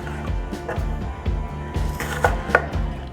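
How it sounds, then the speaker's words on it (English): A knife cuts onions into half-moon slices on a chopping board, with a steady series of close, dull thuds and soft crunches at an even rhythm. "I'm cutting these onions in a half moon slice and then cutting them again"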